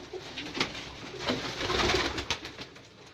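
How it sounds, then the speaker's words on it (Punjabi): Red-eyed pigeons coo softly and repeatedly close by, the low throaty calls mixed with brief rustles and scrapes from the birds, with no one speaking. "ਲਾਲ ਅੱਖਾਂ ਦੇ ਕਬੂਤਰ ਨੇ"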